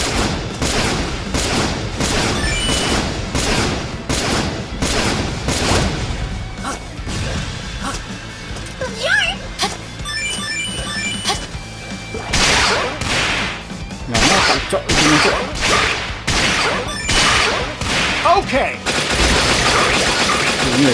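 Dense, rapid gunfire from the side-scrolling shooter Metal Slug: Awakening in hard-mode story play, with loud continuous bursts, crashing impacts and game music layered together throughout.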